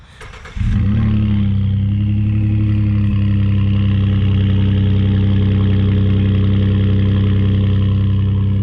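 After a brief quiet moment, the 3.5 EcoBoost V6 in a Ford F150 with a Pypes stainless steel exhaust starts up and settles into a loud, steady, deep idle heard up close.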